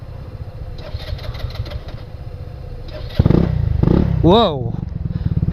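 A Genuine Blackjack motorcycle engine idles with a low rumble, then fires up loudly and revs in rising, falling bursts, with a person exclaiming over it.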